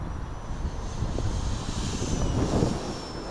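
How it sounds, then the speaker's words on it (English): Hobbyking F4U Corsair RC warbird plane, flying faster with more throttle, gives a steady distant propeller drone mixed with wind rush, rising slightly near the end. "It's so nice to see it flying properly now."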